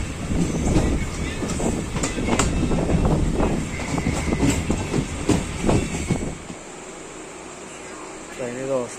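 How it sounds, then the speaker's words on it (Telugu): A train running on rails at night between Tadepalligudem and Vijayawada, a loud rumble with rhythmic clacking heard from inside a carriage that fades to quiet hum after about six seconds, with a voice speaking over it. "ట్రైన్ ఏదో వస్తుంది, చూద్దాం ఏ ట్రైన్."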